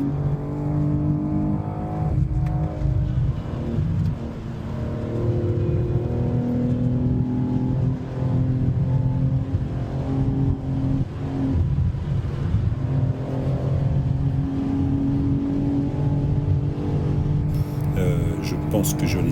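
BMW M4 Competition G82 engine droning steadily at around 240–250 km/h on a fast road section, a continuous loud cabin roar of engine and wind with a voice speaking over it throughout.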